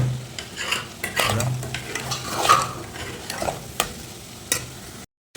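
Bitter gourd frying in oil is stirred with turmeric powder. A spoon scrapes and knocks against the pan in an irregular rhythm over a steady close sizzle, and the sound cuts off abruptly at the end.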